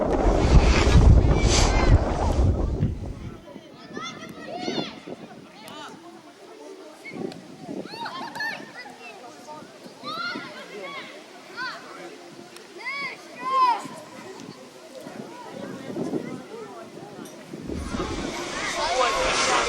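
Gusts of wind rumble against the microphone at the start and end of a school football match on an outdoor court, with people talking in the quieter stretch between.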